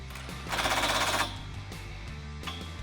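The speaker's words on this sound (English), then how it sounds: "we're going to go ahead and tighten down our body bolts with a 13mm socket" A 13mm socket wrench tightens body bolts on a 2018 four-door Jeep Wrangler JL while rocker guards are fitted, giving a brief close burst of rapid ratcheting clicks followed by a few fainter clicks.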